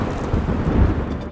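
Thunderstorm in the video game Mecha BREAK: a dense, steady rumble of thunder and rain-like hiss, fairly loud and unbroken, with no voices.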